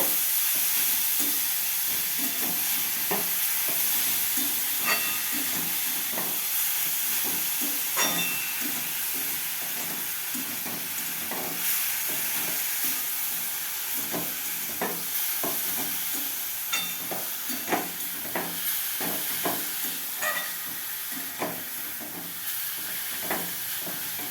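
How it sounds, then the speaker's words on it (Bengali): Grated carrot frying in ghee over medium heat hisses steadily while a spatula scrapes and stirs the pan in repeated strokes, clearer toward the end. "গাজরটা আমি ঘিয়ে ভালো করে ভেজে নেব"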